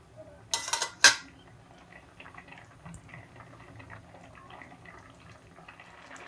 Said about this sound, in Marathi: भाजीला आपल्या चांगली उकळी आलेली आहे